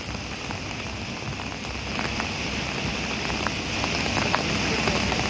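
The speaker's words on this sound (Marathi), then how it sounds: "सोलापूरमधल्या करमाळ्यामधल्या कोर्टी गावामध्ये ढगफुटी सदृश पाऊस झालाय।" Heavy cloudburst-like rain in Korti village, Karmala, Solapur, pours down as a dense, continuous patter with sharp drop hits on surfaces, growing slightly louder partway through.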